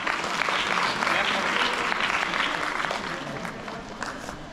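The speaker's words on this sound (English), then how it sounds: "Clapping is needed na." A school audience claps together, a dense, even burst of applause that starts strong and gradually tapers off over a few seconds, with faint voices mixed in.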